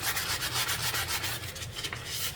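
A wooden piece is hand-sanded with 1000 grit sandpaper on its sides and roundovers, giving a quiet, rhythmic back-and-forth rubbing close by, with no talking.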